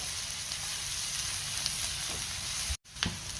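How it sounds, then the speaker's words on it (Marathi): Curry leaves sautéing in hot oil in a pan for mutton sukka, a steady close sizzle and crackle throughout, broken by one brief cut near the end, with no voices. "आता आपण हे व्यवस्थित परतून घेऊया."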